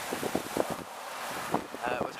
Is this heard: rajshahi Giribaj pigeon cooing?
no